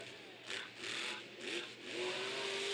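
A monster truck doing donuts at a Monster Jam show in Orlando, its engine rising and falling in repeated revving surges, heard faintly and from a distance across the arena with no nearby talk.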